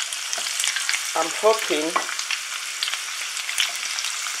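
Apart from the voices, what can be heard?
meat frying in a pan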